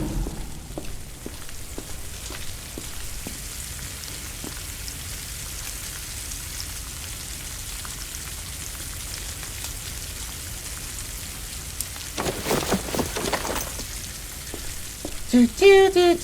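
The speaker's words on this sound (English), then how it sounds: "the food will be done cooking when this stops sizzling" Food sizzling while it cooks in the video game Project Silverfish, a steady hissing crackle like rain on a surface, moderately loud, with a brief burst of louder activity near the end.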